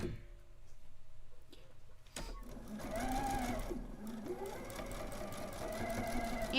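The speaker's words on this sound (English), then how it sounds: "And now I can sew the rest of my seam" Sewing machine stitching the rest of a fabric seam, a steady rapid mechanical whir and needle chatter starting after a quiet moment and running continuously to the end, close and moderately loud.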